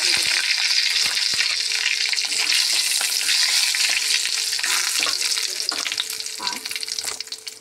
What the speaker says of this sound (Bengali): এবার এই তেলের মধ্যে এই যে জিরে দিয়ে দিলাম আর তেজপাতা দিয়ে দিলাম।